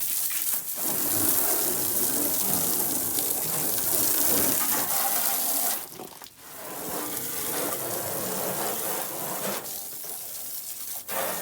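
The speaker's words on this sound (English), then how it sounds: "It's funny, as you're spraying the water," Water sprays hard against a truck during a wash, a continuous close hiss and spatter that briefly drops out near the middle before resuming at full force.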